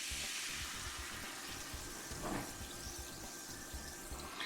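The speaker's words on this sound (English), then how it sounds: "let's go ahead and get some Coke in there" Coca-Cola poured into a hot pan to cook country ham steaks, a faint, steady hiss and bubbling wash with a light swell midway, heard alone without talk.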